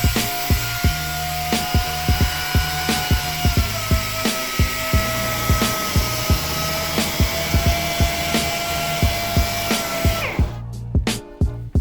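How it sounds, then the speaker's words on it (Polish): Handheld router milling the edges of a wooden stair gate, a loud steady high whine with a rapid rhythmic pulse as the bit cuts, winding down near the end with no speech. "Teraz frezuję wszystkie krawędzie frezarką ręczną."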